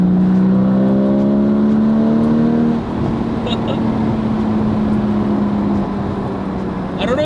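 The 3.8-liter six-cylinder engine of a Porsche Cayman GT4 revs loudly nearby, its steady drone rising in pitch, then holding at a high, even whine over rushing wind noise.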